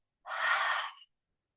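A single audible ujjayi breath during chair yoga practice comes as one soft, close, airy exhalation lasting under a second, with silence around it.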